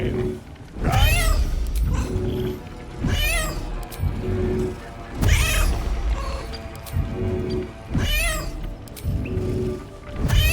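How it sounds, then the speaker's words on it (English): Repeated cat meows from a cat familiar in Baldur's Gate 3, about five loud drawn-out calls spaced a couple of seconds apart over a low rumbling background. "you can use Find Familiar to go with the cat, and you can just spam the good old meow"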